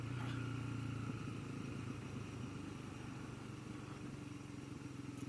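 A Genuine G400C motorcycle engine while riding, a faint, steady mid-pitched drone with a slight drop in pitch early on, no talk.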